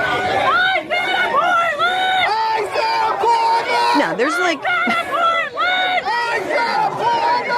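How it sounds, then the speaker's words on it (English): A protest crowd in Portland screams and chants in loud, dense waves of overlapping voices, shouting rhythmically up close with whoops and cries rising over the din. "they're screaming ice out of Portland."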